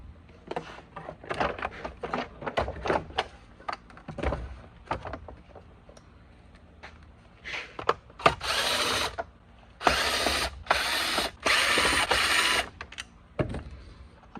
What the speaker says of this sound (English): I'm going to remove the handle just to make things a little easier to work on.